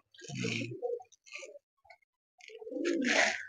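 Pigeons in a loft cooing nearby, low throaty rolling coos in two bursts separated by soft clicks and shuffles, loud and close.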